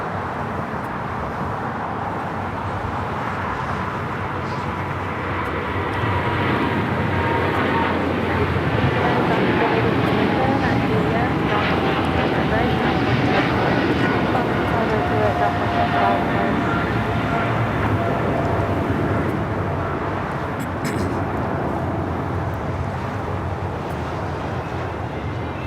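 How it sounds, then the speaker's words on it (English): A WestJet Boeing 737 MAX 8 bound for Toronto flies past at Los Angeles airport, a broad engine rumble that builds to a peak midway and then fades. "Swoop, there it is. West Shot Flight 1101 heading to Toronto, a 737 MAX 8."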